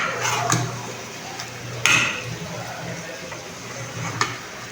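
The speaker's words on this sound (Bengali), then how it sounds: "আমি বিরিয়ানির জন্য মাংসটা দিয়ে গোশতটা দিয়ে দিলাম মুরগির" Chicken meat for biryani sizzles in a kadai as a spoon stirs it, with scraping strokes and a few sharp metal clinks of utensil against pan over the steady frying hiss.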